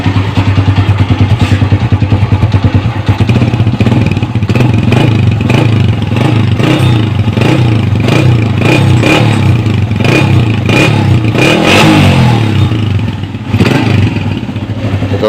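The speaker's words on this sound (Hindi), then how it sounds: "सलेंसर का साउंड भी और इंजन का साउंड भी बहुत प्यारा है" A 2007 Honda CG 125 motorcycle idles close by, its single-cylinder engine and silencer putting out a loud, steady, rhythmic thump with light mechanical clatter throughout.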